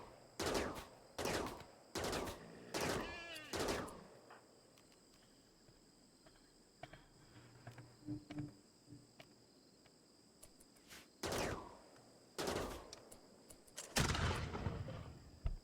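Video game rifle fire during a charging rhino encounter: a series of loud, sharp gunshots in spaced clusters, some in quick pairs, separated by quieter stretches with faint ambient noise and a steady insect-like hum.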